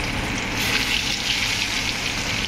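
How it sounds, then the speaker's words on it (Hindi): Marinated salmon pieces dropped into hot oil, sending up a loud, continuous close sizzle and hiss with no talk. "मैं फ्राई के लिए डाल रही हूँ इसमें"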